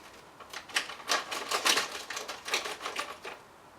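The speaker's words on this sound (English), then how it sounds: "What's that rattling sound?" Rapid, irregular rattling clicks come in quick clusters at close range, moderately loud and alone, then fade out near the end.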